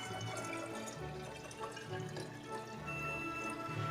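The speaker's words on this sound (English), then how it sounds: "So after I filter this water, I'll pour it into here," Filtered water trickles into a glass, a soft, quiet liquid pour with small splashing drips heard alone throughout.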